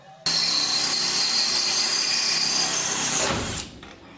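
A power drill starts abruptly and whines at high speed for about three seconds drilling a 1/8 inch hole in metal, then winds down to a stop.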